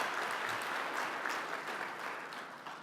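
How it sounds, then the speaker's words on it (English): Steady, even applause from an audience at the 2016 GMiS National Defense Awards, a dense wash of clapping held at a soft, distant level throughout. "Let's give that a round of applause too"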